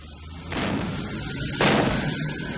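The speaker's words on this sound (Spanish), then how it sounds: "Sam confía en que John logre unas explosiones a una escala adecuada" A pyrotechnic fireball explosion rigged as a special effect for a scale model airplane lets out two loud, broad blasts with rumbling roar between them, close and dense.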